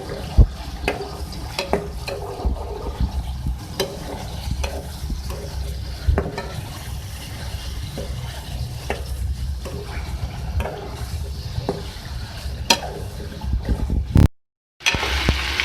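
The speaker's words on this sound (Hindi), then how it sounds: "ये देखिए चिकन हमारी फ्राई हो रही है, इसका कलर चेंज कर रहा है" Chicken pieces frying in a pan for koyla karahi, a steady close sizzle with a dense crackle, broken by occasional scrapes and clicks of stirring.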